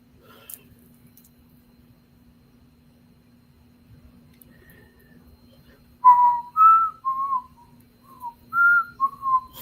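A person whistles a short, halting tune of several separate notes close by, with quiet background noise before the melody begins; they stop and restart partway through.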